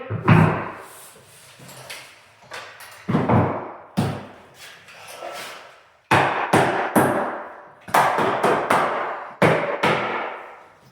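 A wooden door being laid down flat and handled during hanging, giving a string of loud, close thuds and knocks with short quiet gaps between them.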